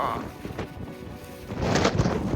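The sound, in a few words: thunderstorm thunder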